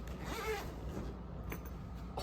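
Zippers being pulled open on a soft contrabass flute case, a close, fairly quiet scratchy rasp sliding along for about a second, with faint handling rustle afterward and no talking.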